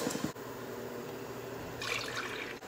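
Coconut milk pours into a pot on the stove with a soft, quiet liquid trickle, growing into a brighter splashing stream near the end, with no voices.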